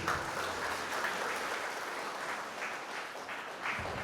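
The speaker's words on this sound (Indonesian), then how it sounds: "Tepuk tangan dulu." Steady audience applause at a graduation ceremony for Quran memorization students in Kendari, a dense, even patter of many hands clapping that holds at moderate loudness throughout.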